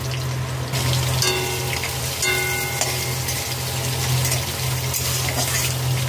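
Whole garam masala and chopped green chillies sizzle and crackle in hot oil for a vegetarian thali, a steady close frying hiss with scattered pops and spits throughout, no voices.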